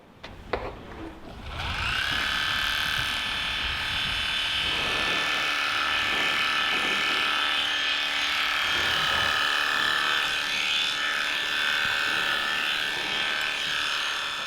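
An electric horse clipper buzzes steadily and loud for most of the clip after a short start-up, with a strong tonal whine and small shifts in pitch as it shears the horse's coat, no voices over it.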